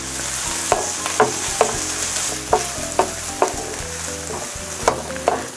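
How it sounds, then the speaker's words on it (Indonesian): Garlic, ginger, galangal and kaffir lime leaves sauté in hot oil with a steady close sizzle, punctuated by sharp scrapes and clicks of a spatula stirring the pan every second or so. "Ditumis-tumis lagi sampai semua bahan yang masuk ini mengeluarkan aroma yang harum atau yang wangi ya"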